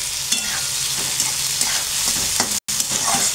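Lentils fry in a pan with a bright, constant sizzle and occasional soft stirring scrapes, one brief dropout midway, and nobody speaking over it.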